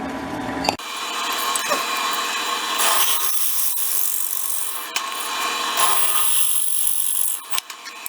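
A sharp drill bit bores into wood with a loud, continuous rasping grind. The pitch shifts partway through, and the cutting stops near the end with a few clunks.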